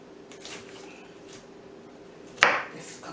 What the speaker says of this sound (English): So I'm going to just go in and try and just slice that as best I can.